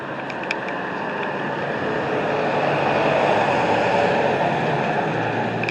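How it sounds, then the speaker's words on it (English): A motorcycle passes along a town street in Pottsville, Pennsylvania, as a steady broadband roar that swells toward the middle and then holds, with no talking over it. "There's a motorcycle."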